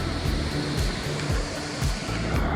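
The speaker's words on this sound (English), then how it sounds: "There's definitely a bit of water moving around." Creek water flowing at a waterfall, a dense, even roar close by that holds steady without pause, no voices.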